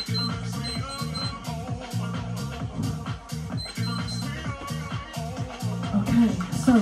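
A workout interval timer during a HIIT bootcamp session beeps in short high tones over steady rhythmic music with a thumping beat, the beeps fairly clear but partly buried in the mix.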